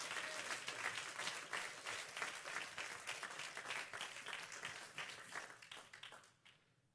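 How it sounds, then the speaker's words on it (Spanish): Church congregation clapping in praise during a Spanish-language sermon, a dense sustained round of applause that fades out near the end. "dale un aplauso al Señor"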